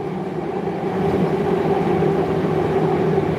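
A steady, loud rumbling roar of a passing suburban train bound for Melbourne, holding a constant low drone throughout with no voices.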